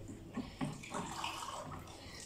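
Water is poured onto grated coconut in a kitchen and mixed by hand, making a soft, continuous splashing and sloshing with a few squelching bursts.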